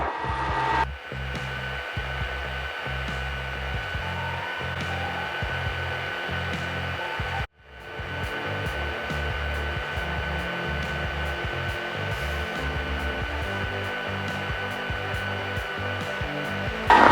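Helicopter engine and rotor with the throttle being rolled off, a loud steady broadband whine and drone that cuts out briefly near the middle, then resumes just as strong.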